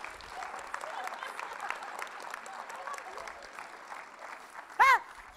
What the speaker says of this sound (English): Let me give y'all a chance to applaud